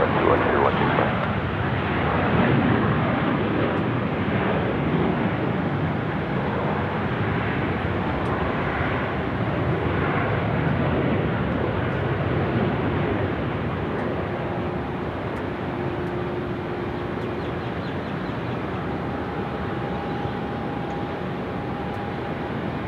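A KC-135 aircraft takes off at Sydney Airport with a broad, sustained jet engine roar that stays strong, then slowly thins. A voice talks over it.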